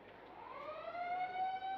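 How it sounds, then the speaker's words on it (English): A quarter-time siren sounds at a WAFL Colts Australian football match between West Perth and Subiaco, a single sustained wail that rises and holds for under two seconds above faint crowd noise. "And there's the siren for quarter time."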